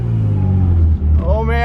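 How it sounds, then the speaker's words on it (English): A running car engine with strong low rumble, changing pitch as it is shifted through the gears, with a rising rev near the end; close and steady throughout. "It's shifting through the gears just fine."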